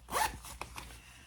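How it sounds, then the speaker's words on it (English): A clothing zipper on a sewn fabric pouch is pulled closed in one quick, close zip, followed by a couple of faint clicks as the pull settles. "Let me close my zipper."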